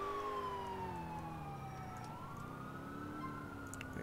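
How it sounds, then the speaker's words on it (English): A video game ambulance siren wails, rising and falling continuously over a low engine rumble, steady and fairly close. "Ambulance coming through"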